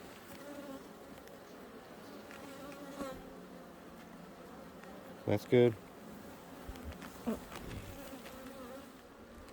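Bees swarm and buzz steadily around open beehive frames, a continuous close insect hum with brief handling knocks and soft speech over it.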